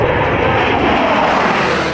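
A Sukhoi fighter jet roars at a forward air base near the border, a loud, continuous broadband engine rumble that stays steady and close throughout, with no talking.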